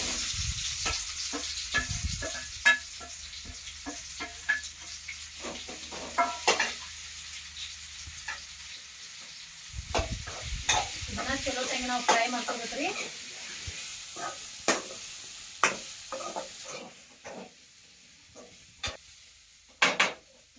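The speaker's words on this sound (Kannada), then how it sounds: "ಇವಾಗ ನೋಡ್ರಿ ಮಸ್ತ್ ಫ್ರೈ ಆಗ್ಯಾವ" Cauliflower curry ingredients fry and get stirred in hot oil, with a soft sizzle broken by repeated clinks and scrapes of a utensil against the pan, and a person talks now and then.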